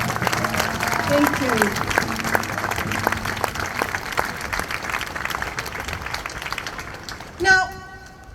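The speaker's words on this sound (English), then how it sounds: "So can I all just ask us to send our claps to Selwyn and his iwi" Rally crowd clapping for Selwyn and his iwi at an outdoor Gaza ceasefire rally, a sustained, moderately loud outdoor applause with voices mixed in that gradually thins out before a speaker briefly says a few words near the end.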